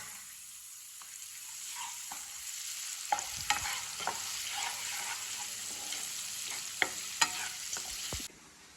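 Onions stirred with salt in a frying pan give a continuous close sizzle, punctuated by irregular spatula scrapes and taps against the pan, then cutting off abruptly near the end.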